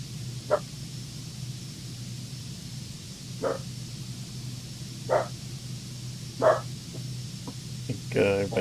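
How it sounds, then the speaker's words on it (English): A dog barks in a few short, spaced bursts somewhere in a room during a live stream, the barks sounding moderately distant over a steady electrical hum. "I see my mic jumping every time he barks."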